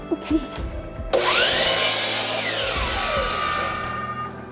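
After a moment of quiet, a power saw starts abruptly and whines steadily for several seconds as it cuts through material while building a small model airplane.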